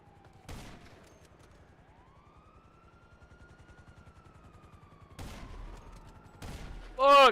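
Sniper rifle fire in the GTA Online video game: a few sharp, loud cracks spaced seconds apart over a low droning engine hum and a rising whine, ending in a loud burst.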